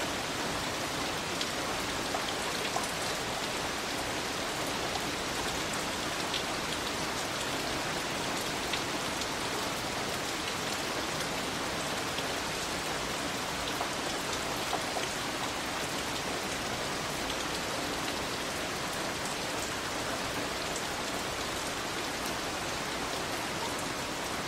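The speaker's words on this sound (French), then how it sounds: "le nuage laissa échapper sur la terre une abondante pluie" Heavy rain pours steadily and loudly, a dense, even hiss of drops hitting the ground that stays constant with no pauses and no voices.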